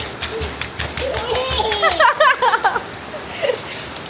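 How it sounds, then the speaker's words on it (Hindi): Heavy rain patters down over a broad hiss, flooding a house, while children's voices chatter and squeal nearby. "देखो कितनी तेज बारिश हो रही है।"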